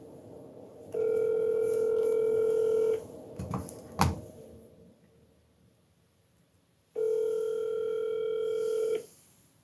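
A landline telephone plays a steady dial tone for about two seconds, followed by a few clicks and a brief burst of dialing, then a quiet gap before a second dial tone sounds. No one speaks.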